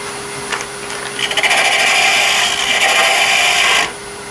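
A hook tool hollowing a 22-inch wooden cup on a lathe, a close, loud, steady scraping whir that builds after a second and runs for about two and a half seconds over the motor hum.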